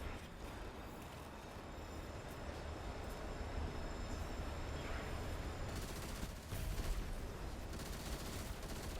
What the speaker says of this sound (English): So I am abusing the Destroy Fit machine gun.